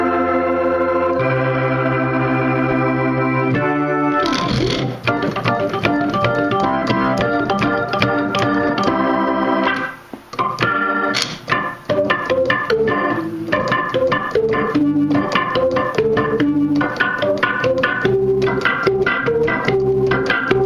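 Keyboard notes from Logic software in a touring band's rig play continuously, starting with sustained tones and moving into busier, denser chords and runs, with a brief dip partway through.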